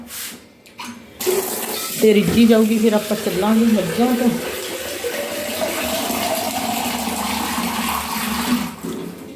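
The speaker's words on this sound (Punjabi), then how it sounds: "ਇੱਕ ਜੱਗ ਪਾਣੀ ਦਾ ਹੋਰ ਪਾ ਦਾਂ" Water pours steadily from a jug into a pot of green moong dal for several seconds, a continuous splashing rush under a voice speaking close by.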